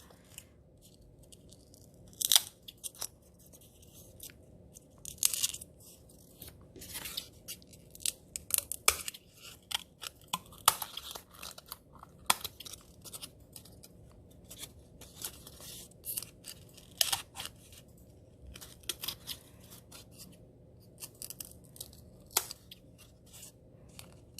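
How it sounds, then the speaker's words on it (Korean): Scissors trimming the leftover edges of a paper cutout, with scattered close snips and crisp cuts spread over a quiet stretch, some in quick pairs, with no talking. "다 잘리지 않는 이 끝부분을 가위로 정리해 주도록 하겠습니다"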